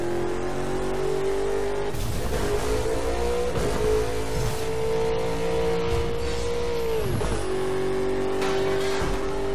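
A car in Burnout Paradise Remastered on Nintendo Switch drives and revs, a loud continuous engine drone rising and falling in pitch through gear changes, with brief swooshes and a passing whine, no speech.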